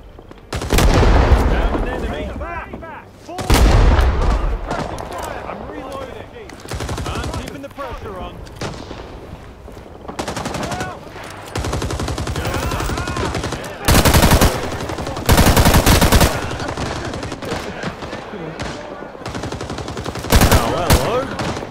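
Automatic and rifle gunfire in the Vietnam War video game Rising Storm 2: Vietnam, playing as the Thai Army: loud bursts and single shots crack throughout, with heavier blasts near the start and middle and voices calling out in between.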